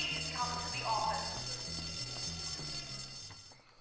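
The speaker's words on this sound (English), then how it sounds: "If anyone saw who pulled the fire alarm, please come to the office." A fire alarm rings steadily in the school-set video game Bully, a repeating electronic tone that continues throughout the clip at moderate loudness with faint game sounds underneath.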